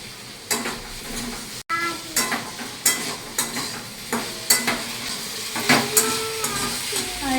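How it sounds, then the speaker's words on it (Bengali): Onions frying in a pan, a steady close sizzle broken by regular scraping strokes of stirring, fairly loud and with no talk. "আর এখানে হচ্ছে পেঁয়াজ ভাজা হচ্ছে"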